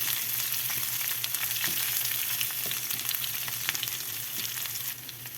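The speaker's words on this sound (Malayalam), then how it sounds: "ഒരു ആറ് ഏഴ് ചെറിയുള്ളി അതിട്ട് കൊടുത്തിട്ട് നന്നായിട്ട് മിക്സ് ചെയ്തെടുക്കാം" Shallots and curry leaves fry in hot oil for a sardine curry, giving a steady close sizzle with crackling pops and occasional stirring throughout.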